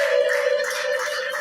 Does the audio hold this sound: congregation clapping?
yes